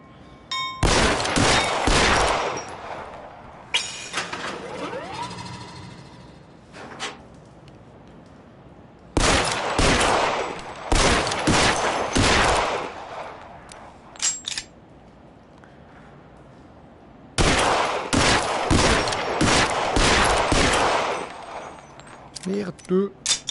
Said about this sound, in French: Pourquoi je tire une balle et je recharge?